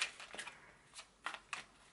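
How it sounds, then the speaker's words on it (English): A deck of tarot cards is shuffled by hand in a few soft, quick riffling bursts, close and quiet, with brief pauses between them. "I usually shuffle the cards like this"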